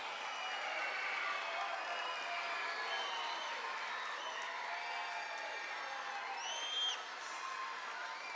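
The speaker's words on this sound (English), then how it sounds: "can we have a round of applause for our Birchwood class of 2026" Audience applause fills a school hall for a graduating fifth-grade class at a moving-up ceremony, a sustained even wash of clapping with thin whistles and cheers rising over it.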